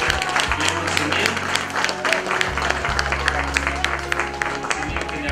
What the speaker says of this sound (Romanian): Să aplaudăm mai cu forță de jos.